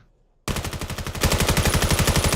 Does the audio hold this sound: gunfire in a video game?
yes